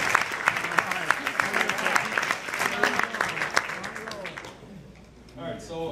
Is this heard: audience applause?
yes